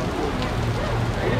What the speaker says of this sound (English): Unfortunately, it's raining really bad